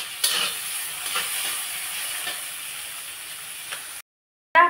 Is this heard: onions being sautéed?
yes